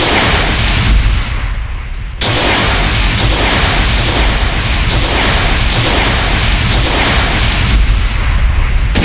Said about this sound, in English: if someone's firing a rocket at you, you air blast, you just blow that rocket right back